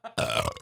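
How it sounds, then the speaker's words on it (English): A loud, close burp from a man, a short voiced onset followed by a longer rumbling belch, heard on its own with no talk. "That has been like the 10th burp I've heard"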